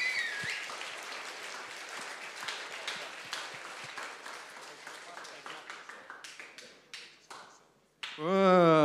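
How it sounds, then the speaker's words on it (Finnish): Applause for a band in the final of a band competition at the Gloria venue, a modest crowd clapping that thins into scattered claps, then a voice speaks right at the end. "Yes, aplodit."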